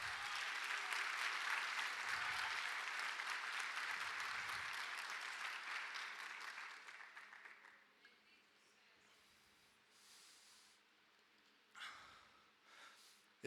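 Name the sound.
church congregation applauding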